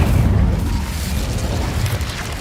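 A fire spell blasts in the Hogwarts Legacy game, a loud booming burst with a rumbling, crackling low-end tail that fades over a couple of seconds.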